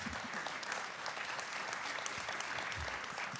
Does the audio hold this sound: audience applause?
yes